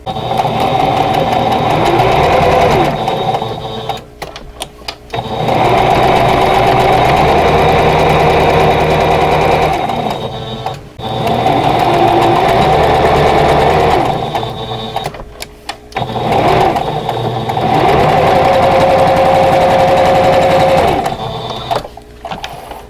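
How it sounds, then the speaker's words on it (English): Quilt block center units are stitched on a sewing machine in four long, loud runs of steady whirring, separated by brief pauses, with no voices. "now I'm going to sew together the other center units"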